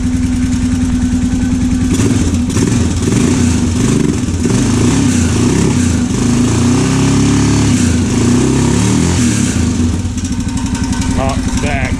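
A Honda 650 motorcycle engine runs continuously with a steady, loud idle and rough mechanical chatter throughout, a brief dip in level near the end.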